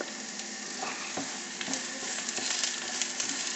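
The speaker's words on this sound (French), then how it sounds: "Je vais commencer par mettre mes oignons dans une poêle où j'ai mis un petit peu d'huile." Chopped onions sizzle in a little oil in a frying pan, a steady crackling hiss with small pops and occasional stirring, close and moderately loud.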